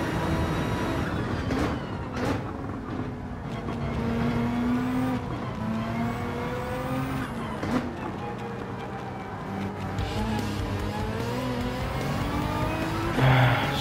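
Race cars at the 24 Hours of Le Mans circuit in Gran Turismo 7 drone steadily at high revs, engine pitch rising and falling through gear shifts, with a brief tire squeal near the end.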